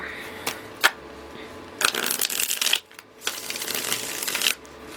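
Tarot cards being shuffled in quick riffling bursts, crisp papery flutters repeating with brief pauses between, close and fairly loud.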